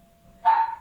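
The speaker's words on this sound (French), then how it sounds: "il y a eu l'attaque des chiens" A single dog gives one sharp, close bark that trails off briefly after a short faint tone, during a dog attack.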